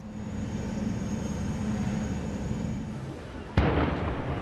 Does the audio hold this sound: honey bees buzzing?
no